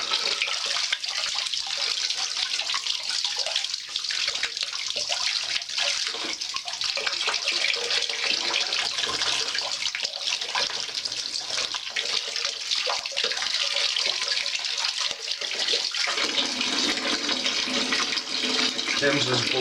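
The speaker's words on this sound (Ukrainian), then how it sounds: "Другою стороною промиваємо тут все в теплу водичку" Warm tap water runs continuously into a bathroom washbasin while a slow-draining sink is rinsed out, a steady close-up rushing and splashing that changes tone slightly toward the end.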